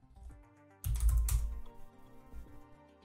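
Keystrokes on a computer keyboard as a command is entered at a command prompt: a quick cluster of close, moderately loud key taps over a faint musical background, with no talking.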